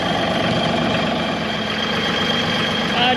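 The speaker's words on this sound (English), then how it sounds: "While the tractor's warming up for a minute" A tractor engine idling while it warms up on an Alaskan homestead, a steady low rumble with a constant hum that holds throughout, fairly close and with no talk.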